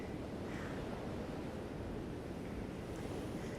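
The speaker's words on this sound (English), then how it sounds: "I have wind working against me here" Wind blowing outdoors during a yoga session at home, a steady, faint rushing roar with low microphone buffeting and no pauses, no voices.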